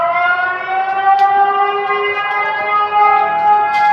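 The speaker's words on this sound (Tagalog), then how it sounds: "Nagbabadya na naman guys yung sirena." A civil defense warning siren wails during a typhoon evacuation, a loud steady multi-tone howl holding throughout with slight wavering, no voices.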